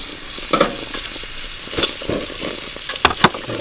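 Redfish fillet sizzling as it fries in a buttered pan at a van camp cook, a steady crackle broken by a few louder spatters and bursts of stirring.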